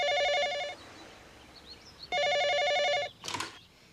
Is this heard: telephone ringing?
yes